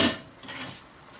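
Chopped tomatoes dropped into a pot of plov, a brief clattering splash followed by a steady, soft hiss of cooking close by, with no voices.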